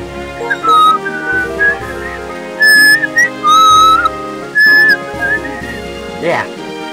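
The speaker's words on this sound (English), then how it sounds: "it's too high for me to whistle" A person whistles a high, wavering tune in several short phrases over steady Pokémon White game music, fairly close and clear.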